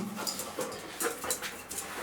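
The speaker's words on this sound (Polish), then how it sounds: "tylko nie szczekaj mi, nie szczekaj" A dog pants rapidly and close by in a garden, with quick rhythmic breaths and faint whimpering.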